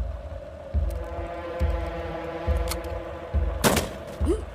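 Gunfire in a dubbed Hindi action film: a series of single heavy shots roughly every second, each a sharp loud thump with short decay, with one brighter crack near the end over a steady low background hum.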